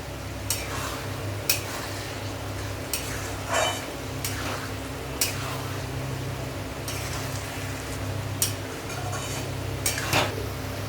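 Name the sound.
stirring vegetarian banana flower curry with potatoes in a pan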